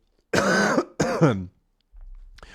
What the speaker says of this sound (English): Sorry, I do have a little bit of a cough right now.